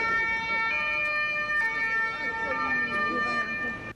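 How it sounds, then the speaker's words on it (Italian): Siren of a local police car in Venice sounding continuously with a wailing, shifting tone over traffic noise, loud and close as the vehicle approaches. "Il suono delle sirene ne precede l'arrivo"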